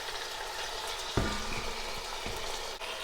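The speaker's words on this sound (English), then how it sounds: "I'm going to toss this and just allow it to brown." Boneless chicken pieces browning in a pot for a stew give off a steady close sizzle and crackle, with a single sharper clatter partway through as they are stirred.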